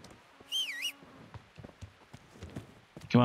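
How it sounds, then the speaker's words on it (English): Horse hooves clip-clop at a walk in the video game Kingdom Come Deliverance, scattered irregular thuds at moderate distance, with a short tonal call early on and a louder sound at the very end. "Come on, horse."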